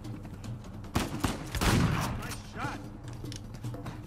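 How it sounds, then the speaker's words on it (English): Shotgun blasts and clattering gunfire during a firefight in Uncharted 4, a few heavy booms with mechanical rattles amid game sound, moderately loud and near. "Shotgun."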